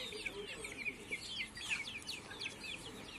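Asil cross chicks in a poultry shed chirp busily, many high, thin peeps overlapping in a steady, fairly faint chorus with no voices.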